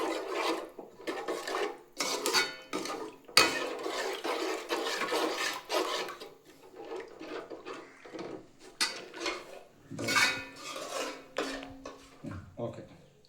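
Metal utensil scraping and clattering against a cooking pot in irregular bursts while water goes in and the contents are stirred, close and fairly quiet with brief pauses between strokes.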